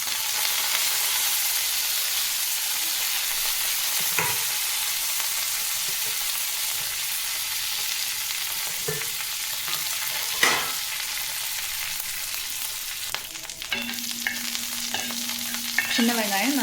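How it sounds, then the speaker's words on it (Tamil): Sliced shallots, dried chillies and curry leaves fry in hot oil for a peanut thuvayal. A steady close sizzle runs throughout, broken by occasional soft scrapes and knocks as the pan is stirred. "சின்ன வெங்காயம் நல்லா பொன்னிறமாகட்டும்"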